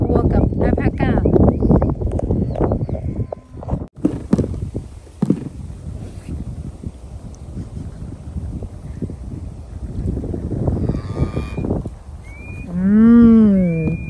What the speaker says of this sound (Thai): ทำไมเจอแต่วัวกับแอลพาก้า